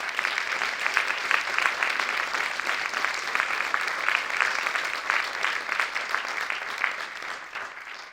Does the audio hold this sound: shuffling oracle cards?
no